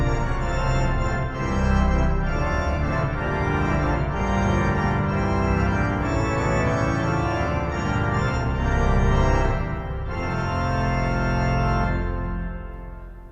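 A 1906 Felgemacher pipe organ plays with a 4-foot coupler, producing a bright, dense, sustained wash of chords that holds steadily and changes harmony slowly over about thirteen seconds, loud and reverberant.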